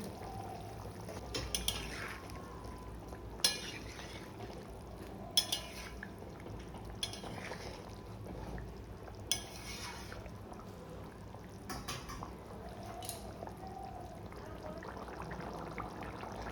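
Paneer pieces are added to simmering gravy for potol paneer, with faint scattered clinks of a spoon against the pan and soft stirring, quiet and fairly distant.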